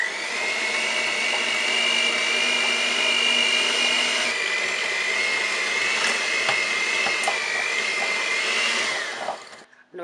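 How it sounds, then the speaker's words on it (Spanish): An electric hand mixer beating room-temperature butter whirs steadily at high pitch, loud and close, running continuously before cutting off at the end. "y la vamos a ir mezclando con nuestra batidora."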